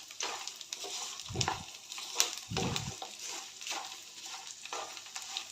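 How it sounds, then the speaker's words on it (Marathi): Garlic and curry leaves dry-roasting in a pan for a garlic chutney produce a continuous crackling sizzle. Two low thumps of stirring sound close by, and no voices can be heard. "सर्व लसणामधील आणि कडीपत्तामधील सर्व मॉइश्चर निघून जाईपर्यंत आपण हे चांगलं भाजून घ्यायचं आहे"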